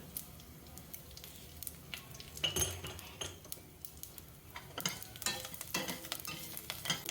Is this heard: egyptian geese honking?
no